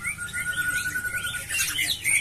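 A cucak ijo, or green leafbird, chirps in a rapid, varied stream of high whistles and trills, close and clear with no talking.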